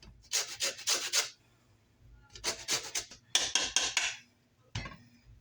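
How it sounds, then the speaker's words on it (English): A lemon is zested on a hand grater in a home kitchen, with four bursts of brisk scraping strokes separated by short pauses, close and fairly crisp. "And I'm going to grate the second lemon."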